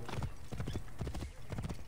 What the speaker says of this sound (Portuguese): maravilha, cavalo do faraó.